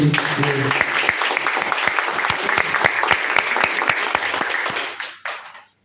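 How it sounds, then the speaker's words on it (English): Live audience applause at an online-streamed event, a steady wash of many hands clapping for a few seconds before it thins out and stops, with a few faint voices underneath. "So here's a round of applause for Kalinasho."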